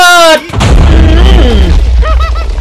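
Minecraft explosion, a loud booming burst erupting after a short tonal sound, with a rumbling decay; a voice reacts over the tail.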